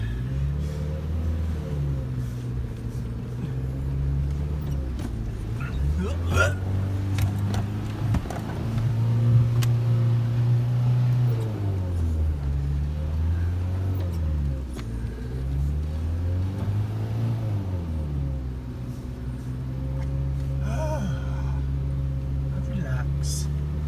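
A car labours over rough terrain with a low engine drone that rises and falls as it revs, with bumps and knocks throughout and voices talking over it.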